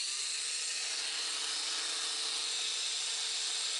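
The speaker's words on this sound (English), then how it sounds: "Use a cutoff wheel, jigsaw, or hacksaw to cut the flex pipe closely beside the swivel nut." A cutoff wheel or saw cuts through flexible bilge pump pipe beside a swivel nut on a small boat, giving a steady, unbroken high-pitched grinding hiss at moderate distance with no talking.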